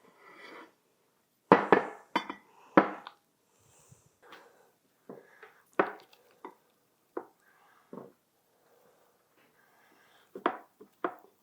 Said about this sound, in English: what we're going to do is put it into the baking dish